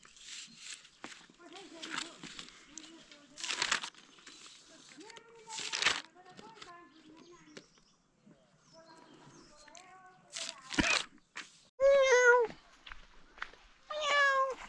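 Cat meowing in a rural village setting, several short drawn-out meows near the end, heard over scattered footsteps, movement and people talking.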